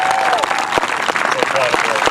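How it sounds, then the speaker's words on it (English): Dense crowd applause at a 2020 Mepham High School graduation ceremony, a steady wash of many hands clapping with faint cheers and voices mixed in, sustained throughout. "Let's get another round of applause."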